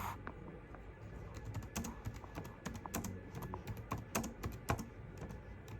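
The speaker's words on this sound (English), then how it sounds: "sorry, I'm typing with one hand because I'm holding my phone in the other" Keyboard typing with one hand in uneven bursts of clicky keystrokes with short pauses, close up over a low room hum, no voices.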